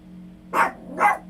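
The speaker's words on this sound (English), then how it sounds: "My dog is barking." A dog barks twice at close range, two loud separate barks about half a second apart over a low steady hum.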